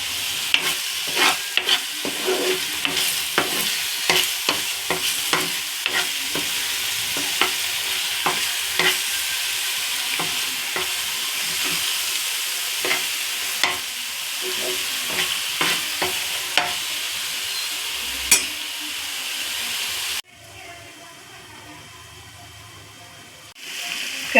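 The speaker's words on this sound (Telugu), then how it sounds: "ఇప్పుడు ఇందులోనే కొద్దిగా కరివేపాకు, 2 బిర్యానీ ఆకులు వేసుకుందాం." Curry leaves and bay leaves frying in hot oil for an egg masala curry, a steady close sizzle with frequent stirring clatters, then the frying drops to a quieter hiss near the end.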